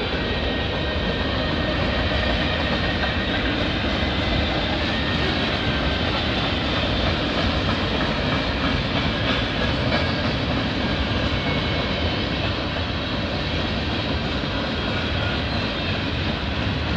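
A CN freight train with gondola cars rolls past on the Oakville Subdivision, a steady loud broadband rumble and rattle of wagons that holds for the whole stretch with no pauses.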